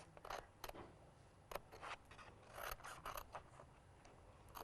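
Scissors snip through a handmade craft gift box in a run of short, crisp rasping cuts, close and fairly quiet, with brief pauses between strokes.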